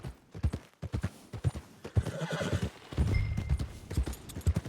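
Horse hooves clip-clop near a stable in Red Dead Redemption 2, a steady walking rhythm with a horse's whinny and soft voices underneath.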